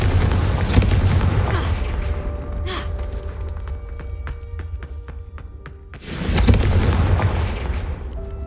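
A Confringo blasting spell from the Hogwarts Legacy video game goes off as a heavy explosion, its boom and debris rumble fading over several seconds before a second loud burst erupts near the end.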